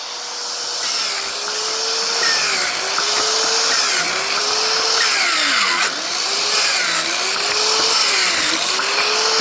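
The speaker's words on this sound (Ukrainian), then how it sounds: "Поставив другий диск, так класно ріже, одне удовольствие." A power tool fitted with a cutting disc slices through firewood, a loud continuous high whine that dips in pitch each time the blade bites into the wood, close up with no talking.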